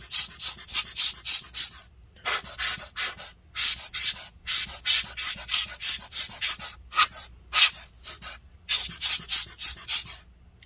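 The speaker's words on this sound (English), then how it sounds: "I'm going to use this air blower thing, and I'm just going to blow the dust through the back here" An air blower blows dust out of the back vents of an Alienware 17 R4 laptop in repeated sharp, hissing bursts separated by short pauses.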